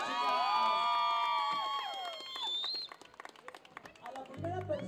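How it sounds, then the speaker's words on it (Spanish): A festival audience cheers, whoops and claps, shouting children among them, loud and dense at first, then thinning into scattered clapping and voices. "Fuerte el aplauso para ellos, chicos."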